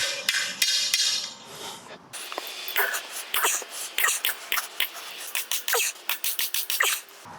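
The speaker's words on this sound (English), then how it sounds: "But I'm gonna drive it with a hammer." Repeated sharp metallic hammer blows driving a metal T-post into the ground, quickening into a steady pounding rhythm after a noisy, rustling start.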